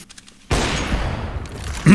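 A loud burst of gunfire in the video game CS:GO cuts in abruptly after a near-silent moment and rings on with a sustained crackling decay, followed by a short final hit at the end, no speech.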